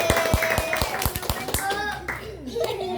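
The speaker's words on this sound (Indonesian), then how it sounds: "Tepuk tangannya, Adek" Children clap their hands in a classroom, about eight sharp, evenly spaced claps close by, then a voice and other young voices talking as the clapping stops.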